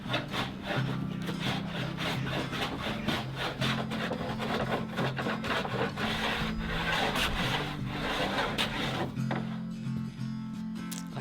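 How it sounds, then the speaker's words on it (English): A jigsaw cuts a wooden surfboard board along a clamped rocker template, a loud steady rasping buzz with rhythmic pulsing strokes that runs continuously before the motor winds down near the end. "Clamp my rocker template down onto the first board and I'm starting to saw with the jigsaw."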